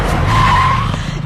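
Car braking suddenly with tires skidding on a road, a loud sustained squeal with rumbling noise lasting just over a second, close by and alone.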